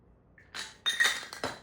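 Glasses holding zero-proof paloma mocktails clink together in a toast, a few bright, close chinks and taps in quick succession with no talk over them.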